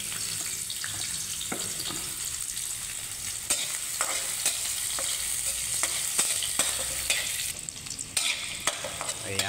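Ginger and onion sauté in a pan for a coconut-milk dish, a constant bright sizzle with scattered stirring scrapes and clicks, close and fairly loud without talk.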